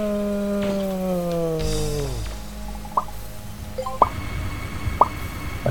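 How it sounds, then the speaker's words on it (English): Dripping water in the video game Mega Man Legends 2: after a falling tonal sound fades, single drops plop about once a second, distinct and moderately close, over a low ambient hum. "That's the sound of dripping water."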